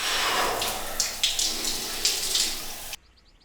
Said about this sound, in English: I take my morning shower as usual and I just crank the water to the coldest setting it can go.